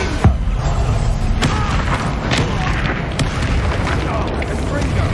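The Confringo explosion spell goes off in the Hogwarts Legacy video game as a loud, booming blast, with dense rumbling battle noise continuing under a voice.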